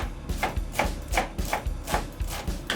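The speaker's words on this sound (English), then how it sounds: "So now we're going to go ahead and chop the onions." A knife chops onions on a cutting board in a home kitchen, about seven crisp, evenly spaced strikes in a steady rhythm, close and clear with no talking.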